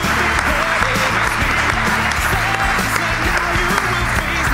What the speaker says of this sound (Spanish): Un aplauso para Juan Ignacio Cuesta